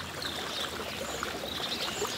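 A waterfall gives off a continuous, even rush of falling water, a steady broadband hiss with no voices over it.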